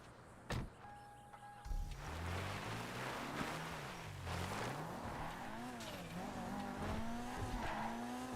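A car in a Redline RP roleplay game revving and sliding, its engine pitch sweeping up and down with tire squeal and skidding across several seconds, fairly quiet and without talk.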